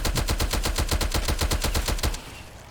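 Rapid automatic gunfire from a video game gun set in a Cold War zombies mode rattles out in an even, fast burst of about a dozen loud shots, then stops abruptly.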